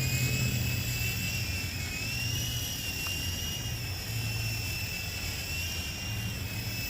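A toy remote-control helicopter's small rotor whirs steadily with a high, thin motor whine that slowly wavers in pitch, moderately distant against a soft background of mild wind.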